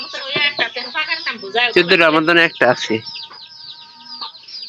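Hens cluck loudly and close by with a rapid run of clucks and squawks on a farm where a hen has young chicks, while people talk over and between the calls.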